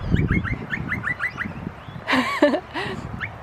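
Birds call among trees near old buildings, with a quick run of repeated chirps followed by louder, warbling calls. Background noise sits underneath.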